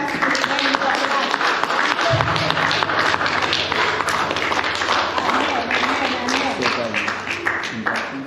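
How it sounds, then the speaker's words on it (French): Sustained audience applause at an 80th birthday celebration, loud and dense throughout, with a steady low sustained tone joining partway through. "Applaudissez-les jusqu'à ce qu'ils prennent leur place."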